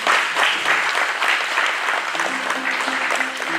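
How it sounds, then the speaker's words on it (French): Wedding guests at a civil ceremony in Vaires-Torcy clap for the couple in a close, lively burst of applause that continues throughout, with a few brief tonal sounds entering near the end. "on peut les applaudir quand même"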